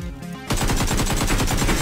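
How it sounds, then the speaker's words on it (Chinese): Rapid automatic gunfire in a video game breaks out after a brief quiet moment, a loud, dense rattle of shots that continues steadily to the end. "开枪。"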